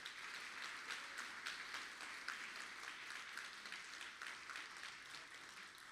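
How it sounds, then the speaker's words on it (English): Audience applause at a gala dinner, a steady wash of many hands clapping at moderate volume and holding evenly throughout with no voices over it. "I think they all deserve a big round of applause."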